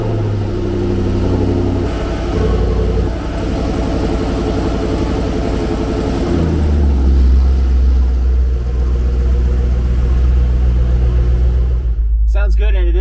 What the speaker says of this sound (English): we're gonna do a little cold start.